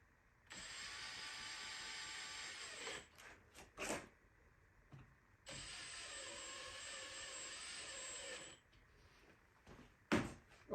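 Bolts tightened on a caddy during assembly, heard as two long stretches of steady whirring from a power driver, each lasting a few seconds, with brief clicks and handling knocks between them and no talk.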